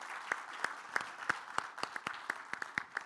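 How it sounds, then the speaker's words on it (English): A small audience at a business presentation for owner-operator truckers claps, the sparse, uneven handclaps fairly faint and close, with no voices over them. "Let's give him a big round of applause"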